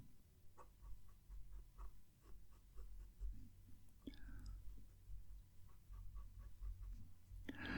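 A generous medium-nib fountain pen writing on paper, faint close scratchy strokes and light taps in an uneven rhythm over a quiet low room hum.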